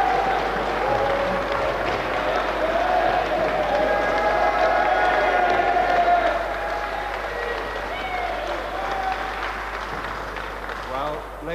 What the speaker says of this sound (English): thank you very much indeed for that applause